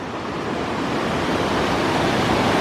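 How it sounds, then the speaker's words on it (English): A big river flows beside a hiking trail on Vermont's Long Trail near a suspension bridge, a steady, loud broadband rush of water with no speech. "Oh wow, this river is big."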